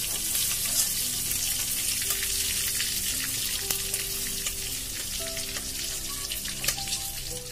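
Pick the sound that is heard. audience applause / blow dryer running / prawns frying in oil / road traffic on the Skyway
prawns frying in oil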